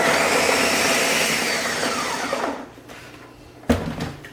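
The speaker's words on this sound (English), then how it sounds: "we will plop this in here and give it a good blend" A blender roughly chopping cranberry salad ingredients whirs loudly and steadily, then winds down and stops, followed by a sharp knock and a brief clatter nearby.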